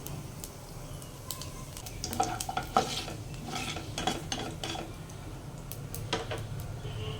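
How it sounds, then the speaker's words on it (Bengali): Nigella seeds crackle in hot mustard oil in a kadai, a soft steady sizzle with scattered sharp pops and light clicks of a spoon against the pan, no voices. "প্রথম আমি কড়াতে দিয়ে দিলাম সর্ষের তেল এবার আমি এর মধ্যে দিয়ে নেব কালো জিরে ফোড়নে"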